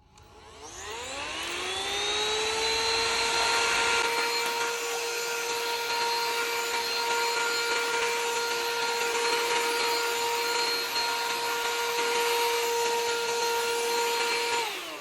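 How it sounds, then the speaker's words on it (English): An XREXS handheld vacuum cleaner whirs up and then runs at a steady, loud, high-pitched whine for the rest of the clip, close by. "We're going to turn on the vacuum cleaner and see how well it works."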